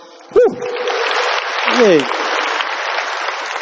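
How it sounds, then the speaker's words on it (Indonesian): Audience at an indoor comedy show at Tennis Indoor Senayan breaks into steady applause, a broad wash of clapping with a couple of loud shouted voices rising above it. "Tepuk tangan buat lo semua."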